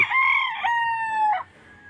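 A single rooster crows nearby in one long, bright call, holding high before dropping off, followed by quieter background.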